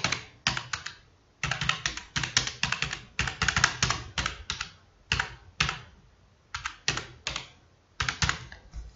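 Code is being typed on a computer keyboard in bursts of quick, close clicks, separated by short pauses, with no talking.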